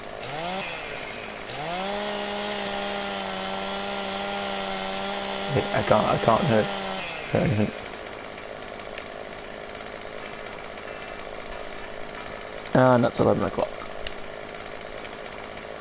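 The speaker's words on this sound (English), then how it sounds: "That means we can chainsaw at night time." A chainsaw in Farming Simulator 2017 revs and runs steadily for several seconds, then cuts off, with clunks of wood and a voice talking over the game.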